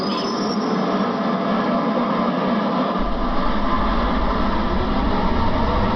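Dassault Mirage IIIO jet engine starting in a flight simulator game, a loud steady broadband roar and hiss that deepens with a low rumble kicking in partway through, continuous throughout.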